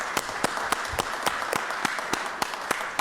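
Council meeting audience applauding Discover Bastrop: a small group claps in an even rhythm, a few distinct hand claps standing out over a steady background hiss.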